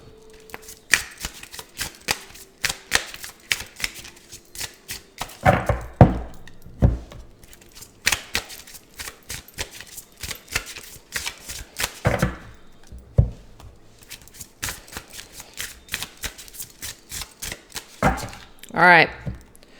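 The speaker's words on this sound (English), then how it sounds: "So let's just go ahead and shuffle each deck." Repeated riffling and slapping of oracle card decks being shuffled close up, in uneven bursts with short pauses between.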